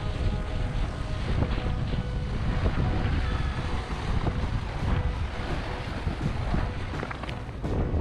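A boat moves over open sea off the Ninepin Islands near Sai Kung, Hong Kong, with steady roaring wind buffeting the microphone and waves slapping and splashing against the hull throughout, loud and close, with no talk.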